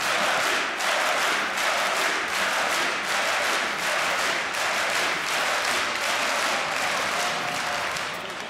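A large esports arena crowd at the DreamHack Winter 2014 CS:GO grand final in Jönköping roars and applauds continuously, a dense wash of clapping and cheering that stays loud from start to finish.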